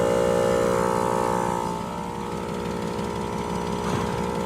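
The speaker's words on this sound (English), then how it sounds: "We got our little air compressor set up here." A small air compressor runs during a snow trip, its motor giving a loud, steady droning hum that dips slightly in level partway through and then holds constant.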